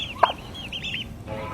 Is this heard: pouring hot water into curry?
no